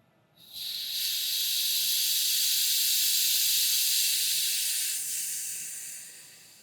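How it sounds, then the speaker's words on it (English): Air hisses steadily out of an opened Schrader valve on a wide, tubeless electric-bike tire, starting abruptly, holding loud and constant for several seconds, then tapering off as the pressure drops. "We'll open up our little valve on here. Let our air out."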